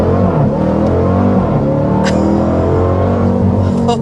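A 2026 Dodge Durango Hellcat three-row SUV launches hard with traction control off, its engine roaring loudly and steadily from inside the cabin, the pitch climbing with a whine overhead and a brief high swish near the midpoint.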